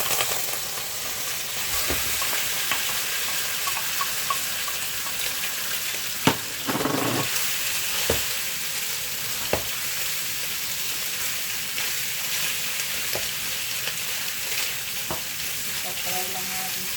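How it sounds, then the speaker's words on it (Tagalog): Marinated beef fries in hot oil for ampalaya con carne, a loud steady sizzle and crackle broken by occasional sharp clinks and scrapes of a utensil in the pan. "Okay, mainit ng ating mantika. Pwede na natin ilagay yung ating beef na minarinate ko."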